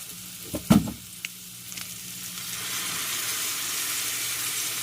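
Soy sauce hits frying tambakol fish in a hot pan for sweet and sour, a sharp burst of sizzle early on that settles into a steady, fairly close frying hiss with a few light clinks.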